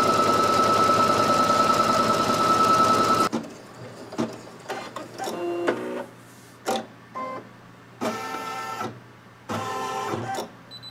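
Brother NQ3700D embroidery machine stitching a design in matching thread on a table runner, a loud steady whirring run that stops abruptly, then short bursts of mechanical whirs and clicks with pauses between.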